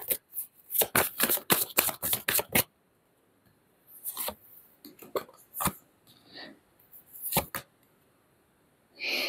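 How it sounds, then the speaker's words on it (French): Oracle cards being shuffled by hand, a quick run of crisp riffling bursts followed by slower scattered card slaps and taps after a pause, close and alone. "Je vais tirer 3 cartes de l'oracle des miroirs là-dessus."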